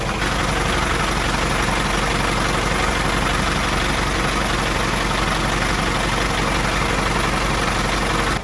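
Car engine idling steadily after an exhaust flex pipe replacement, a constant dense rumble with broad hiss, loud and close, unchanging throughout with no voices.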